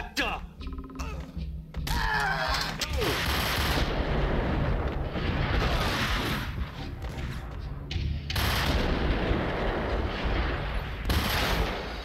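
Gunfire in the Max Payne PC video game: dense, loud bursts of shots and impacts run almost continuously from about two seconds on, with game music and effects layered underneath.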